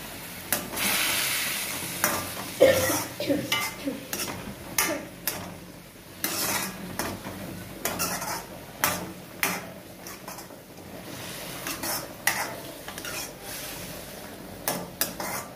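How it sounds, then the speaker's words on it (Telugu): Rice with spinach cooks in a pot with a soft, steady sizzle and bubbling, broken by repeated clinks and scrapes of a spoon against the metal. "పాలకూర వేసిన అన్నం ఉడుకుతుంది"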